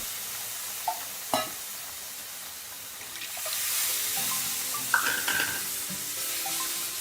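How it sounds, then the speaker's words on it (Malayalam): Spoon stirring semolina with milk in a pot while making gulab jamun, giving soft scraping and swishing with a couple of light clinks against the pot, steady and close with no talking. "നല്ലവണ്ണം ഇളക്കി കൊടുക്കണം."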